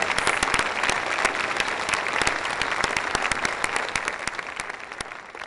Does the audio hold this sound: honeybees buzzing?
no